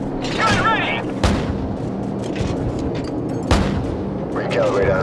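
Heavy cannon rounds from an AC-130 gunship in Call of Duty Modern Warfare: two deep booming shots a few seconds apart over a low engine drone, with radio voices talking throughout.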